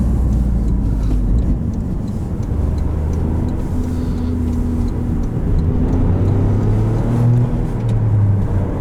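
A 2023 Toyota GR Corolla Morizo Edition engine revs through rev-matched downshifts on a drive, a loud steady drone with tonal rises and falls in pitch, heard alone without talk.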